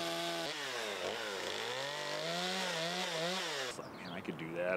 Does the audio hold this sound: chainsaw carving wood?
yes